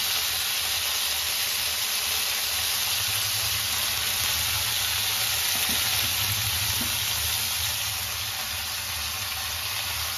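Eggplant pieces sizzle steadily in a hot pan for chutney, a dense, even frying hiss that runs unbroken and close for the whole stretch with no voices.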